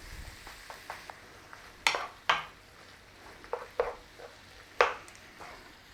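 Beef mince with tomatoes and onion cooking in a pan for keema, heard as scattered scraping and clinking of a utensil against the pan over a faint background, with several sharper knocks.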